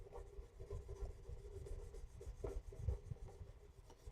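Wood carving burnished by rubbing it with wood chips: a continuous, faint, close scraping and rubbing texture with small irregular strokes throughout.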